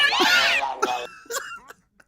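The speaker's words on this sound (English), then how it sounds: "Can you hear the cat sounds?" A cat-in-heat sound effect: a loud, wavering yowl opens the sound, followed by a few shorter, choppier cat cries that trail off into near silence.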